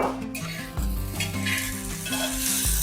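Sabudana khichdi with potatoes and salt is stirred on an iron tawa, a steady frying sizzle under repeated scraping strokes of a spatula against the metal, close and moderately loud, with no voices.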